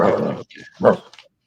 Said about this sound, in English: Dog outside.